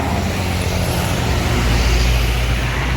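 A bus passes on an open road, its loud, broad engine and tyre roar swelling steadily and staying close throughout, with no voices.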